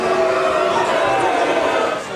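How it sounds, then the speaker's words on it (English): Large outdoor Carols by Candlelight crowd at the Sidney Myer Music Bowl booing protesters who rushed the stage, a dense continuous roar of many voices at steady loudness that drops slightly at the end. "The protesters were met with boos from the crowd"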